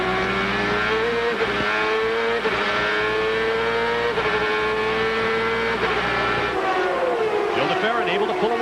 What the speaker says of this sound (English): Let's listen to how Scott Pruitt handles the throttle chores of the run-up to the green.